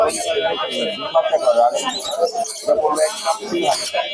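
Many birds chirp and coo together at a crowded bird market in Mirpur, Dhaka, while people talk loudly over them.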